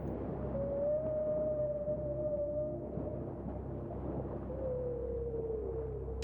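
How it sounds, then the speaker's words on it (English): Whales vocalize underwater in long, smooth tonal moans that glide slowly in pitch, two drawn-out calls over a low rumbling sea background, with no voices. "Now, that's the sound of whales on our planet"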